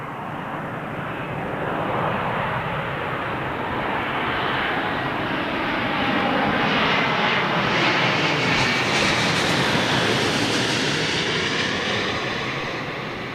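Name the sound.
British Airways Boeing Dreamliner jet at Heathrow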